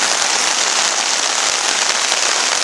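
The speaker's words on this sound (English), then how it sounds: "Pouring down rain." Heavy rain pours onto a hammock tarp overhead during a storm, producing a dense, unbroken roar of drumming drops that stays loud and even throughout.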